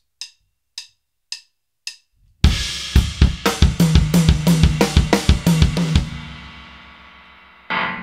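After four quiet count-in clicks, a drum kit opens with one crash and then pounds a rapid run of hits all on a single tom, the second tom, ringing out under cymbal wash before a final hit.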